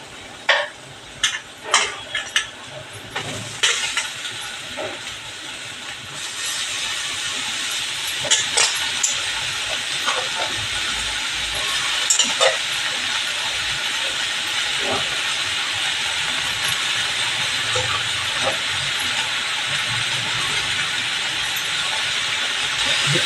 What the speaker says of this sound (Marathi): ही भाजीवर फोडणीला टाकणार आहे